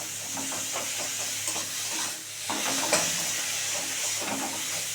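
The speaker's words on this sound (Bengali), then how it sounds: "এবার এগুলোকে সমস্ত কিছু আমি ম্যাশড করে দেবো।" Fried eggplant and tomato being mashed in a pan for begun bharta, a steady scraping and stirring over a continuous sizzle, close and moderately loud, with no talking.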